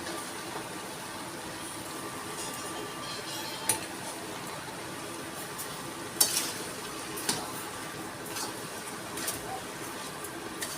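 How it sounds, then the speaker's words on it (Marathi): Grated carrot halwa with sugar being stirred and sautéed in a pan: a soft, steady scraping sizzle with a few sharp utensil clinks against the pan, faint and close, with no talk over it. "आता साखरेत छान परतून घेते, मिक्स करून घेते मस्तपैकी"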